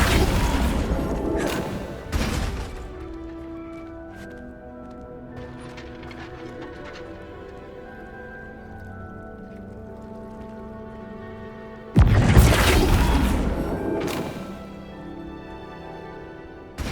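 Flipendo and Confringo spell blasts fire in the video game Hogwarts Legacy: a cluster of sharp, loud bursts at the start and another burst about two-thirds through, with a quieter ambient hum and soft chimes in between.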